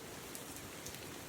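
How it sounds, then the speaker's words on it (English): Rain falls steadily on the Appalachian Trail during a thru-hike, a dense, even hiss of drops all around, faint and unbroken, with no voices. "been raining the whole way up, guys. Still raining."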